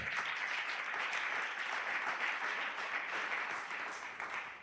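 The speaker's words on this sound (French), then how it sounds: "Est-ce que tu peux acclamer très fort?" A church congregation at a Sunday worship and thanksgiving service applauds loudly, a dense, steady wash of many hands clapping that keeps going without a break and only eases slightly at the very end.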